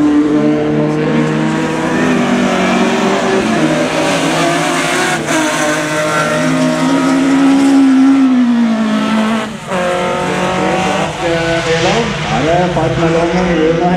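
BMW rallycross cars race side by side in a heat at Gardermoen, with engines droning and revving loudly and continuously up close and shifting pitch as they fight for position, while a commentator talks over the noise.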